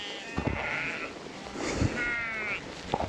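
Sheep bleat three times at a farm, drawn-out wavering calls at moderate distance, with soft thuds and handling noise between them.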